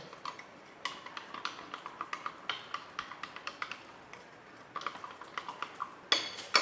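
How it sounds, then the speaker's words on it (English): Quick, light metallic clinks repeat irregularly, a spoon tapping and scraping inside a cup as it stirs instant coffee, fairly faint with no voices. "And then give it a stir."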